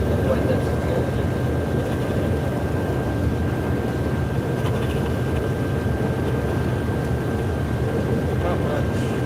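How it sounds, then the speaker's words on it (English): A vehicle engine drones close beside a phone, a loud steady low rumble with a constant thin whine above it, and a person talks over the noise. "My phone is charged right next to the engine."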